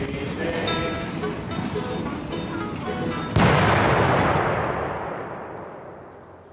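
A bomb explosion played as a sound effect: a sudden loud, broadband blast partway through, following a stretch of dense noisy sound with rhythmic pulses, then a long rumbling decay that fades out.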